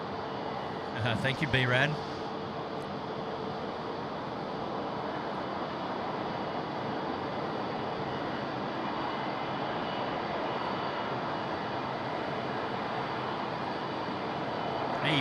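A Cathay Pacific airliner rolls down the runway for takeoff at Sydney Airport, a steady broadband engine roar holding throughout at moderate distance, with a brief voice speaking near the start.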